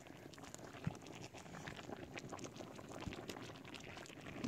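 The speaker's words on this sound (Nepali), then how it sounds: "त्यसको लागि मजाले पकाउँदैछु एक भाँडा।" A pot of pig feed boils over a fire, giving a faint, low bubbling and churning with small irregular pops and a soft liquid rumble throughout.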